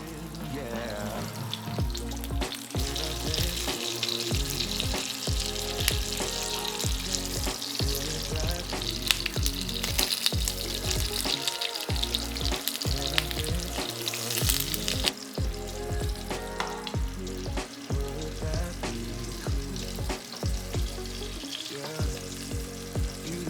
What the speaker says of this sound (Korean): 떡꼬치를 올려서 앞뒤로 노릇하게 굽습니다.